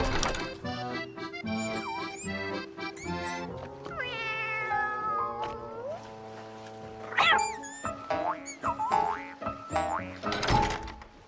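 A cartoon cat meows in a children's spelling lesson, with several bright, bending meows mixed with boing effects, squeaks and playful music throughout.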